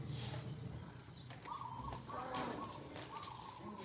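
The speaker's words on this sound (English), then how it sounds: "I can hear birds." Bird calls ring out outdoors, a few distinct sustained calls rising over a steady background hum, moderately distant.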